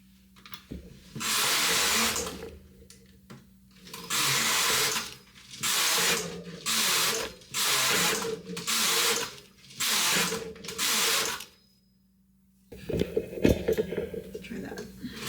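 A Toyota KS787 knitting machine knits a stockinette test swatch, the carriage sweeping across the bed in loud, regular bursts of rattling, whirring passes separated by short pauses, with a voice speaking briefly near the end.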